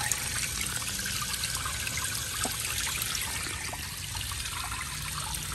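Water runs steadily into an old outdoor water fountain as it fills, a continuous close trickling splash with no talking.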